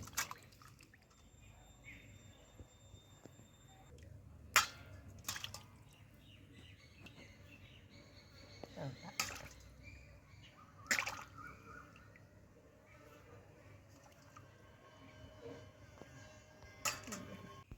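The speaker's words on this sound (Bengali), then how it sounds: "সব মাছগুলো এখন কাটা হয়ে গেছে, এবার মা এগুলোকে ধুয়ে নিচ্ছে।" Cut amudi fish being rinsed in water for a Bengali curry, with scattered drips, splashes and sharp handling clicks against a faint background that includes occasional bird calls.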